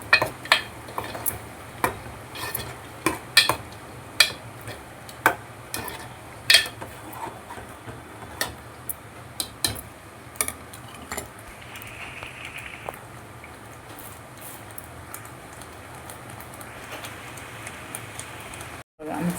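Spoon stirring garlic paste into chicken in a pan, a home-style village dry chicken dish, giving irregular clinks and scrapes against the pan, fairly close, with a soft background hum and no talking.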